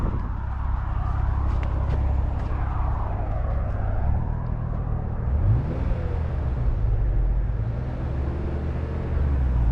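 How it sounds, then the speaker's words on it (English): Engine noise from a MKIV Toyota Supra or NA1 Honda NSX on a road trip, a steady loud low rumble lasting the whole clip with a slight swell in the middle, no talking over it. "I'm gonna rev it"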